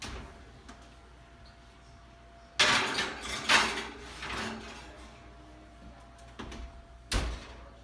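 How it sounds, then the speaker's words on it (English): An oven door opens and shuts as a covered chicken goes in to bake at 350, giving a few sharp knocks and clunks with a quiet kitchen hum in between and no speech. "Now we're going to carefully put our covered chicken into the oven"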